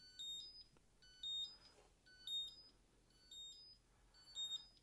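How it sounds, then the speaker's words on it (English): A Limeta EB25 power bank's find-me alarm beeps faintly in regular bursts, each a quick cluster of high, chirpy tones, about once a second, with no one talking. "That thing will continue to beep until you find it and turn it off."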